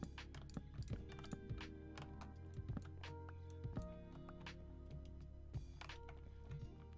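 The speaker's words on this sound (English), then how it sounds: "this mouse clicks twice sometimes." Faint, sharp clicks from a computer mouse that sometimes double-clicks, scattered irregularly through the clip over a low steady hum.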